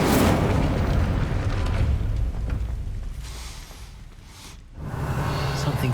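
An Incendio fire spell in Hogwarts Legacy erupts with a loud roaring whoosh of flame that swells and then fades. It dips briefly before a second rush of burning noise returns near the end.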